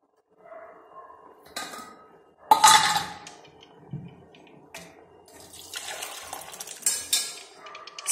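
Cooked moong dal is poured into boiled sago in a pot, with quiet splashing and pouring, clinks of a utensil against the pot and intermittent stirring scrapes, fairly close and soft.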